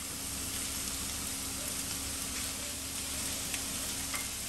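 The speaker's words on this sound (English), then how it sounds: "After you add in your raisin and you fry it up for about a minute or so" Raisins, celery leaves and mixed vegetables fry in a pan for raisin rice, giving a steady, even sizzle with a soft crackle that holds at the same level throughout, close by and with no voices.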